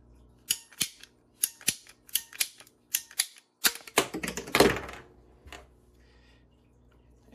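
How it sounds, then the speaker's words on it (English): A pipe cutter ratcheting down on reef tank pipe gives a series of crisp, evenly spaced clicks, close and clear, speeding into a quicker clicking burst before a short grinding rasp and then quiet. "just fit it in there and start ratcheting it down."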